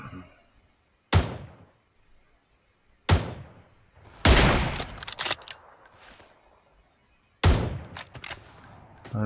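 Gunfire traded between teams in a competitive video game scrim: four or five sharp separate shots or bursts with quiet gaps between them, some ringing briefly, heard without any talk over them.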